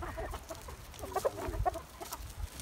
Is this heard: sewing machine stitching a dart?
no